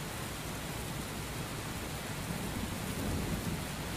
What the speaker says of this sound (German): Der Regen aus dem Game nervt, dann ist das bestimmt zu laut.